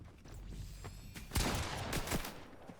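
Gunfire from a Fortnite zero-build match comes as a cluster of sharp game shots, with a louder burst mid-clip over a steady background of game ambience.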